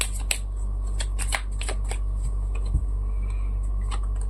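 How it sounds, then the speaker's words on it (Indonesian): Tarot cards shuffled and handled at close range, with soft repeated riffling and crisp flicks and taps spread across a quiet background. "Kita akan buka 9 kartu."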